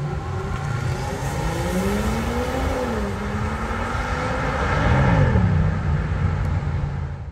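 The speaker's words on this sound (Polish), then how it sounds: "6 cylindrów, rzędowe 6 cylindrów. Ten silnik brzmi fantastycznie." A 2023 Land Rover Defender 130 with an inline six-cylinder engine revs up and down, its rising and falling drone sweeping in pitch and peaking loudest near the end, heard alone and close.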